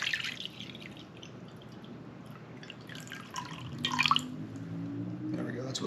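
Water is poured and measured into a metal jug, with dripping and splashing that swells into a fuller pour near the end, while a person talks over it.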